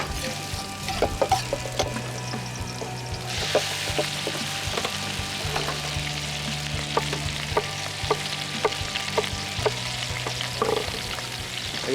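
Onions and garlic sizzling in a hot pan alongside ginger, a steady close frying crackle with occasional stirring scrapes and clinks, no talking.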